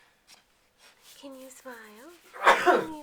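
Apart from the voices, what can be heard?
sneeze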